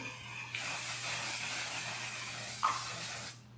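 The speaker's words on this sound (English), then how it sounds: "how much I used to love aerosol sprays" An aerosol can sprays in one long, steady, close hiss lasting about three seconds, with a brief bump partway through before it cuts off.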